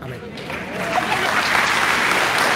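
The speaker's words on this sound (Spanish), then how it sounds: "aplauso fuerte que se oiga para estos hermanos" Church congregation applauding after a debate between a priest and three pastors, the clapping swelling from sparse to full, loud and steady, filling the hall with no voices over it.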